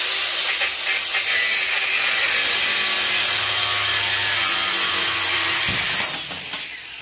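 A yellow brass valve clamped in a vise is sawn through, a steady loud rasping cut running for about six seconds before trailing off as the blade finishes.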